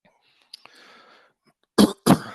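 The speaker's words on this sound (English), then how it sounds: "Excuse me. Sorry, I've got a bit of a cough." Two harsh, close coughs from one person in quick succession after a quiet moment with a faint murmur beforehand.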